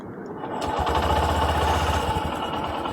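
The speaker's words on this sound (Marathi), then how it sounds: "आणि आवाज दाखवतो, एकदम सायलेंट स्टार्टर आहे." A Honda CD 110 Dream Deluxe motorcycle starts, its electric starter whirring briefly before the small single-cylinder engine catches and runs with a steady low chug, close by.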